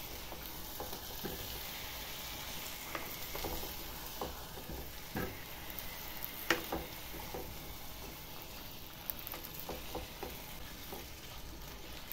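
Indian gooseberries cooked with sugar in a pan for a preserve, stirred repeatedly so a continuous low sizzle runs under frequent spoon scrapes and taps, close and fairly quiet.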